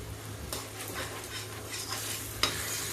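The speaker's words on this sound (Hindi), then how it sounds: "टमाटर को भून लेते हैं।" Tomatoes with asafoetida frying and being stirred in a pan, a steady close sizzle with scraping strokes of a spoon and one sharper clink near the end, no voices.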